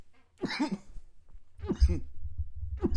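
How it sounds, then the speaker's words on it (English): Three harsh coughs spaced about a second apart, close and fairly loud, over a low background rumble. "Yeah, we're both coughing."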